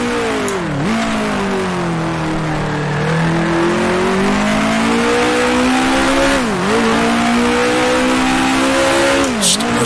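A 1966 Formula One race car engine in the Grand Prix Legends racing game, droning loudly and continuously with pitch dips on downshifts into a chicane, then climbing again as it revs back up, with brief hints of tire squeal.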